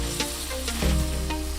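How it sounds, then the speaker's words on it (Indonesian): Spice paste sautés in a pan with a steady, close sizzle and light stirring scrapes, a continuous frying hiss with no talking. "kalau bumbunya sudah siap, bisa langsung ditumis ya"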